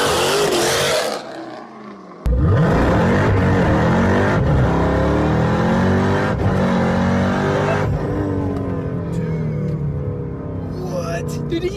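A modified 1000 HP Jeep Trackhawk doing an all-wheel-drive burnout, its engine roaring loud and steady at high revs for several seconds after a brief lull, then easing slightly, with people talking over it.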